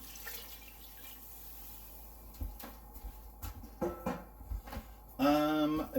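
Water poured from a container into a pot of spicy red lentil soup, a short splashing gush at the end following scattered kitchen knocks and clatters, fairly quiet overall.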